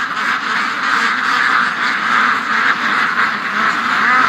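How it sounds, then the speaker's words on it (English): A large flock of domestic ducks quacks loudly and continuously at close range, a dense overlapping chorus with no pauses. "That's a mess of ducks"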